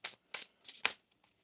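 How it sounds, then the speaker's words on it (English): A deck of tarot cards is shuffled in four quick riffling bursts, crisp and close, with no talking. "One more shuffle here."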